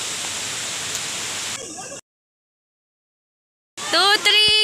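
A flowing river gives a steady, broadband rushing wash for about two seconds. After a short stretch of silence, voices and other noises take over.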